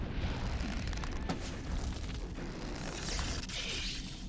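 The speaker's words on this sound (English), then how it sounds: "They fire explosions." Explosive blasts fired by enemies in the Morrowind video game, a rumbling series of booms and bursts with sharp cracks layered over a continuous low roar, loud and close with no voices.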